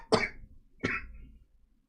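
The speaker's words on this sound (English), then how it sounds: "I couldn't prevent myself from coughing there" A person coughs twice, close and alone: a sharp hacking burst followed by a second cough just under a second later, with quiet after.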